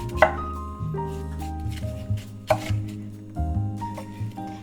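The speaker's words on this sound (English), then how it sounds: "I use red onion because that makes it a lot more sweeter. I'm gonna slice them thin." Red onions sliced thin with a knife on a cutting board, giving several crisp chopping knocks in an uneven rhythm, close and clear, with no talking.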